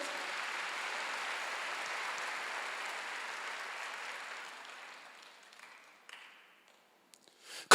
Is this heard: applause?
yes